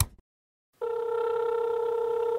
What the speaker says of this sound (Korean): 요 차량을 판매하는 중고차 딜러한테 전화를 해봤습니다